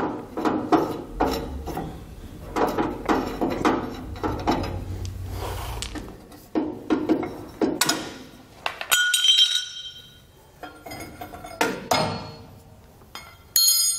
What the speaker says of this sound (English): So we're getting our hardware off of these U-bolts